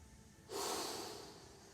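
A single deep inhale during a warm-up stretch, a soft breathy rush that swells suddenly and then slowly fades, close to the mic with no talking.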